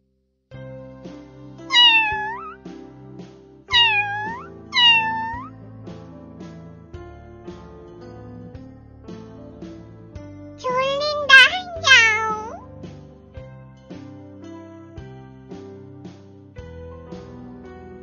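An adult cat meows a few times, bright rising-falling calls heard clearly over a soft musical background.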